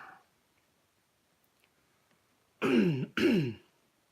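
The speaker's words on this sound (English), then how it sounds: "sorry about coughing and clearing my throat" Two firm throat-clearing rasps back to back, close to the microphone, after a brief faint sound and near silence.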